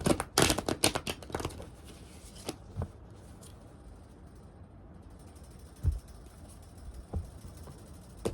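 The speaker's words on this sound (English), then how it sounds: "I'm about to cut this deck one more time." A tarot card deck is shuffled and cut by hand: a dense burst of riffling, flicking card noise in the first moments, then sparse, soft card taps and slides with quiet gaps between.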